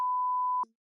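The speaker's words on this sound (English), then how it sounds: "I'm gonna beep it." A steady, loud censor beep tone runs for about six tenths of a second, then cuts off sharply with a brief trace of muffled sound after it. Under a second long overall.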